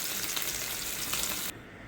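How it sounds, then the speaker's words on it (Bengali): Paneer lightly frying in a pan gives a close, bright, continuous sizzle that cuts off suddenly near the end, leaving a quieter hiss. No voices are heard. "পনিরটা হালকা করে ভেজে নিয়েছি।"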